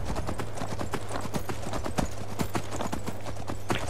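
Horse hooves clip-clopping in the video game Skyrim, a brisk steady rhythm of sharp close hoofbeats over a low constant hum, with no talk.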